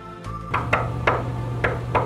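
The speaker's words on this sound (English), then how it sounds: "Here you see Mrs. Nazis knocking on the door and checking in on Mr. Perea." Knuckles rap on a door in a series of five distinct, fairly loud knocks, spaced unevenly, over a low steady hum.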